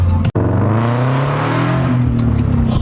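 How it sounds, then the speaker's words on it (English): Scion FR-S sports car accelerating outside a Best Buy during Black Friday, a loud close engine roar that climbs in pitch through the revs, with a brief cut near the start. "You just accelerated in front of the store manager."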